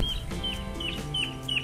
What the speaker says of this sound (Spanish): Qué hermoso sonido, la naturaleza, las aves.